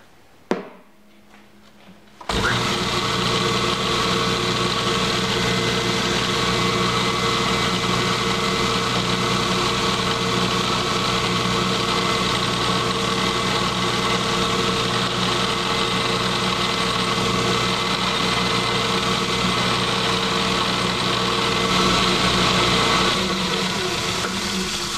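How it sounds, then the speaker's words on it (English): A short, quiet pause, then a lathe starts with a sudden rise into a loud, steady mechanical hum, center drilling metal, that drones evenly for the rest of the stretch, with no talk. "I'm going to feed this into the center drill"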